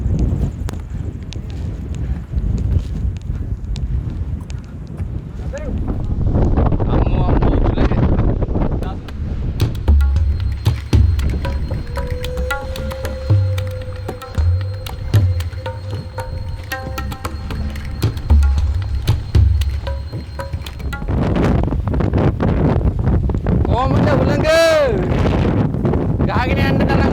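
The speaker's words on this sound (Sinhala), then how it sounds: "ගහගෙන යන්න තරම් හුළඟ." Strong wind roars and buffets across an open rock plateau at a waterfall campsite at Kalugala Gerandi Ella, Sri Lanka, a loud broadband rush with gusting swells and voices talking now and then beneath it.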